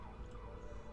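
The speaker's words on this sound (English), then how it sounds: "That is a fire engine." Fire engine siren in the city-building game Cities Skylines 2, a fainter, less distinct wail beneath a busy rumble of traffic and city background noise.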